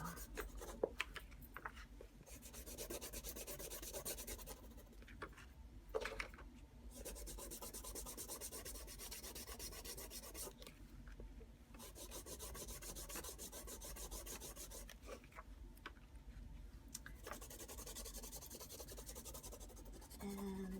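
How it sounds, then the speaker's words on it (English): Continuous soft scraping and rubbing as sandpaper works along the edges of a wetted photo print, quiet and close with short pauses between strokes. "I'm getting it wet. And I'm going to come in, sand my sides."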